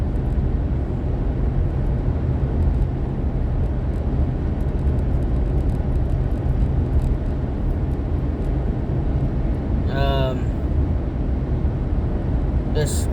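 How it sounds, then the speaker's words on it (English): Steady broadband road and engine roar inside a moving car on the drive home from work, constant throughout, with a brief voice sound near the end. "I am currently driving home"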